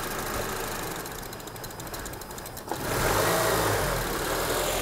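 Car engine running steadily with an air leak between the mass airflow sensor and throttle body, causing a misfire; a continuous mid-pitched rumble with an uneven, knocking texture that swells slightly louder partway through, with no talking.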